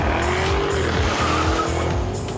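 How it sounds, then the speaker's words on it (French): A car running on moonshine alcohol fuel skids hard, its tyres squealing in a long continuous screech over a loud, revving engine close by. "Regardez ce dérapage, joli!"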